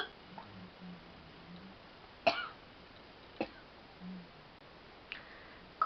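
Several sharp, isolated coughs stand out against a quiet background, spaced a second or more apart, with faint murmuring between them.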